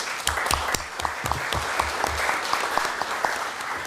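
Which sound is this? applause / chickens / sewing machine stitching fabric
applause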